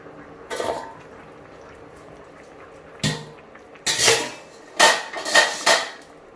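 A lid set onto a clay pot of coconut-milk fish curry (fish molee) cooking on the stove gives several sharp clattering knocks of earthenware and metal, loud and close, with no talk.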